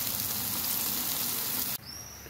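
Onions, fresh garden tomatoes, fresh chilies and green peppers frying in a paella pan, giving a loud, steady sizzle that cuts off sharply near the end.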